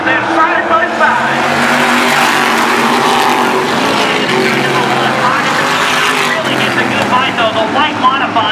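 A light modified coupe race car roars past on a speedway, its engine loud and close as it accelerates out of turn two, with other cars blending into a sustained, rising drone.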